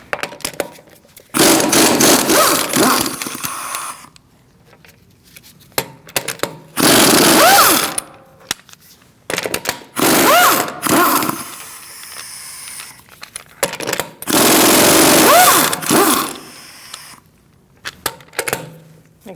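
A power tool with a 17mm socket removes a rear wheel on a 2008-2014 Mercedes-Benz C300, loud hissing bursts of a few seconds each, repeated about four times with quiet gaps between.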